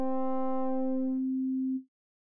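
A synthesizer tone from the Bitwig Phase-4 plays a single sustained note. Its bright upper harmonics fade away as the pulse width changes, leaving a plain low hum that cuts off abruptly. No one speaks.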